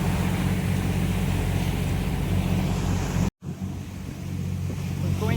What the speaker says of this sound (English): Going through some rapids here. Speed is up, I think up to 9 knots. And the waves breaking over the rocks